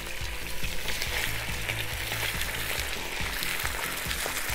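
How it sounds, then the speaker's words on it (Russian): Steady, loud sizzling of chicken breast frying in hot oil, with a continuous crackle and occasional low clinks of a utensil against the pan, no voices. "Масло накалилось. Отправляем сюда жариться грудку."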